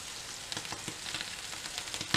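Fish pan-frying in hot oil alongside parsley, giving a steady, dense sizzle that crackles close and loud without a break and no voices over it.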